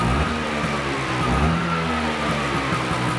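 A vintage Vespa scooter engine revs high and races as the last fuel in the carburetor bowl burns off, a steady close mid-pitched drone that holds loud without a break.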